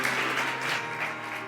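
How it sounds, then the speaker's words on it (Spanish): Church congregation applauding steadily, a dense wash of clapping that holds at an even level throughout with no voices above it. "Dele un aplauso al Señor, porque Él es digno."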